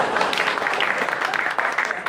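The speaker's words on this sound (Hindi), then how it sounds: "तालियां।" An audience breaks into brief, steady applause, a dense burst of clapping lasting about two seconds with a slight dip partway through.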